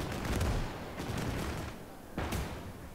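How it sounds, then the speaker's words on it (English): Cannon fire in the Gates of Hell strategy game, Operation Bagration battle: three heavy booming blasts roughly a second apart amid a dense rumble of battlefield gunfire, loud and near, with no talk. "cannon, like firing at me."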